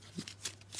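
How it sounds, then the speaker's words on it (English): Thick linen-finished My Little Scythe pie fighting cards are shuffled in a quick, soft riffle of light papery flicks, close and quiet. "Nice to shuffle."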